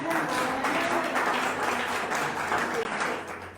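Church congregation applauding, a steady wash of many hands clapping in a large room, sustained for a few seconds with a faint voice underneath.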